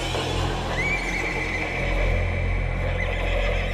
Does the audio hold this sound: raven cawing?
no